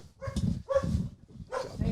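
A dog barks in a studio, a few short quick barks close by at low level, separated by brief pauses.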